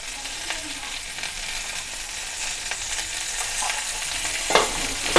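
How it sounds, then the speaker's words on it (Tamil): Onions and tomatoes sauté in oil in a pan for a mutton gravy, sizzling steadily and close by, with a few scrapes and stirs rising near the end. "நான் வந்து குழம்புக்கும் சேர்த்து வெங்காயம் தக்காளி வணக்குறேன்"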